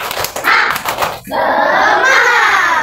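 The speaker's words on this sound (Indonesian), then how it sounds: "Coba tepuk semangat" A class of schoolchildren does a rhythmic clapping chant in a classroom, with a quick patter of claps followed by a loud, sustained unison shout of voices.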